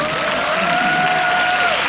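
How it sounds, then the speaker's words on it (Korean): Audience applause at a Korean anti-Japanese resistance memorial concert in a girls' high school hall, steady and full throughout, with a sustained musical tone ringing faintly over the clapping. "다시 한번 박수."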